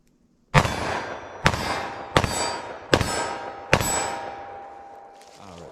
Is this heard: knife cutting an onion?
no